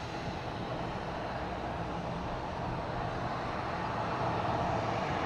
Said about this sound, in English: That's the A380 coming in right now.